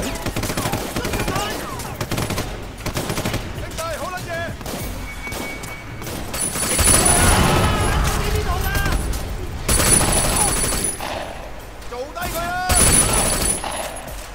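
Gunfire bursts in the Sleeping Dogs video game, rapid shots and heavy impacts swelling in loud volleys amid game noise, with voices talking throughout.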